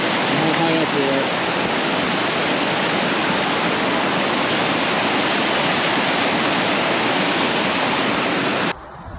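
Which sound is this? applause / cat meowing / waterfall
waterfall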